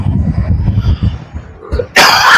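A single sharp cough bursts out near the end, loud and close, after a stretch of low murmuring sounds.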